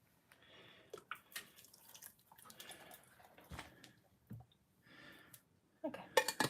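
Liquid poured into a pot of chili in a home kitchen, heard as faint, close drips and splashes at an irregular pace, with a louder burst of splashing near the end.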